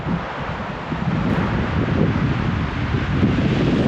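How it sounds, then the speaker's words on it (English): Steady wind gusts across a mountain campsite in the Chiricahua Wilderness, a continuous broadband roar buffeting the microphone, close and loud throughout with no talking. "I'm not happy about the wind"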